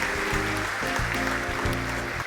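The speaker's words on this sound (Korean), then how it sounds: "많은 박수 쳐주시기 바랍니다." Steady crowd applause fills a conference hall at the 3DEXPERIENCE Forum Korea 2019 as a company chairman is welcomed onstage, the dense clapping running continuously throughout alongside low, sustained walk-on music tones.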